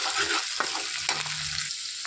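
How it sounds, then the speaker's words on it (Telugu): Onions, green chillies and curry leaves fry in oil in a pan for a mixed vegetable curry, a constant hissing sizzle with a few soft stirring knocks, fairly close. "ఒక 2 పచ్చిమిర్చి అండి ఇట్లా కట్ చేసుకున్నాం, అవి కూడా వేసుకొని వేయించుకోవాలి."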